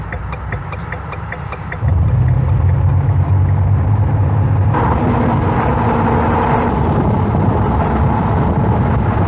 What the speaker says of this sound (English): to me it's noticeable how the engine sounds. It sounds smoother for sure.